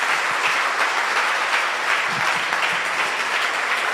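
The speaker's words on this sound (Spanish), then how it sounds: "Puedes darle un aplauso a Jesús por eso" A church congregation applauds steadily throughout, a dense wash of many hands clapping in a large room, with no voices rising above it.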